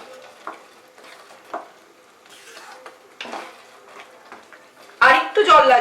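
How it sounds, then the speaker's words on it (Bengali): Water poured into chicken keema in a hot pan, a quiet stirring and scraping at first, then a sudden loud burst of sizzling and bubbling near the end as the liquid hits the pan. "এবারে এর মধ্যে আমি জল অ্যাড করছি।"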